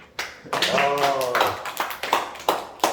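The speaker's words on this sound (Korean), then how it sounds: "그냥 박수 한번 주자" Classroom of students clapping at an architectural drawing exam study session, a short burst of claps with a rhythmic patter over a voice speaking.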